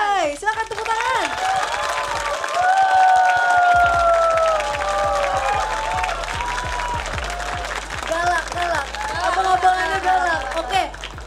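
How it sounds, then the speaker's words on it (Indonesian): A live audience at a JKT48 show applauds and cheers loudly for one team, with sustained clapping and shouts filling the room while an announcer's voice carries over the crowd. "Silakan tepuk tangan."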